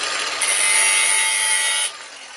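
Power grinder cutting a short grind mark into metal: a steady, loud, close high-pitched whine and rasp lasting about a second and a half, then easing off as the grinder is lifted away.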